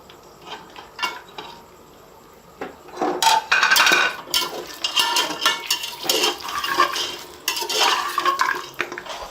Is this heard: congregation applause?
no